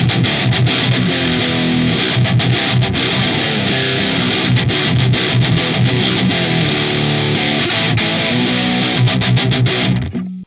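A budget first guitar amp pushes out chunky, heavily distorted metal riffs, a loud continuous palm-muted chug that cuts off abruptly at the end.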